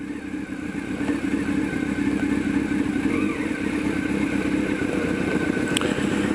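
Motorcycles idling and rumbling at a lookout on Mt Coot-tha, a loud steady engine drone with a faint rising rev, close by and without talk.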